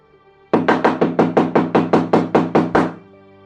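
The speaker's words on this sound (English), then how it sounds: "There was a pounding on the door." Eleven heavy, rapid thuds pound on a door in an even rhythm, loud and close, then stop abruptly.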